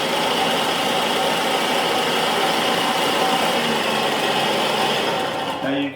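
A food processor whirring at speed 2 as it turns bread into fresh breadcrumbs, a loud steady motor drone that runs unbroken and then cuts out at the very end.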